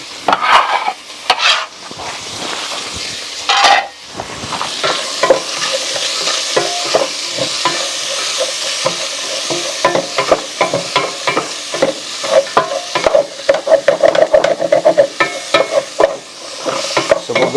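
Chopped onions and green pepper fry with browned smoked sausage in a pan, a steady close sizzle broken by repeated scraping stir strokes, with no voices.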